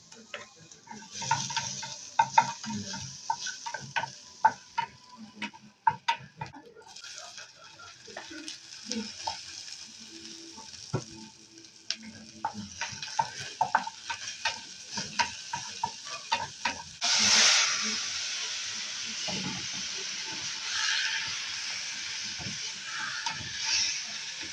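Garlic, tomato and onion sauté in a pan for a Filipino fish dish, giving irregular stirring scrapes and clinks over a soft sizzle, then a louder steady hiss of frying from about seventeen seconds on.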